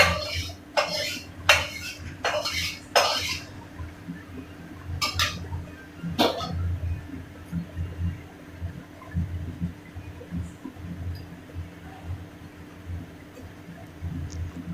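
Prawn malaikari is ladled from the pan into a serving dish with a burst of quick metallic scrapes and clinks. A few sharper knocks follow, then only a low, steady background hum remains.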